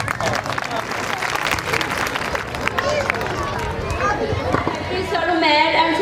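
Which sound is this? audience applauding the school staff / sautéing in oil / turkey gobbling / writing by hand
audience applauding the school staff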